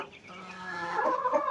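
Young turkeys on a farm, kept alongside chickens, gobble in a rough, warbling stream that grows louder and busier toward the end, close by, with no talk.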